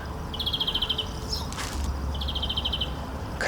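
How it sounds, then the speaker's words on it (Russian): Birds singing outdoors at a restaurant in Istanbul, with two clear bursts of rapid, repeated high chirps separated by a brief gap over a low background rumble. "Красиво поют, много птиц."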